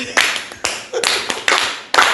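Sparse clapping from a small group, a few separate bursts of sharp hand claps with short gaps of quiet between them.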